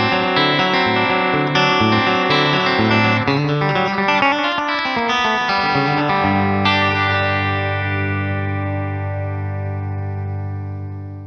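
Channel intro theme music ahead of a Hotone Omni AC pedal review: a full, loud band-style piece with dense layered notes that settles into a long held final chord fading out.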